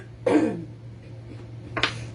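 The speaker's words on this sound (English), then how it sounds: "sorry for clearing my throat so much." A woman with irritated sinuses clears her throat, a short rough burst near the start and a second brief one near the end, close and fairly loud, over a steady low hum at a craft stamping session.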